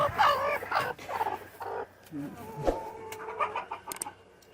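Chickens cluck and squawk in a chicken barn, with overlapping close calls and busy rustling, and a person speaks briefly among them.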